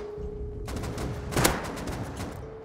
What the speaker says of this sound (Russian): Подожди, они по кому-то стреляют, и это калаши.